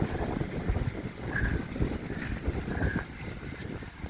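Strong wind buffets the microphone along a riverwalk in Valenzuela City, a steady low roar with gusty swells throughout and no talk.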